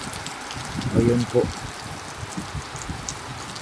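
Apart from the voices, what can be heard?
rain falling outside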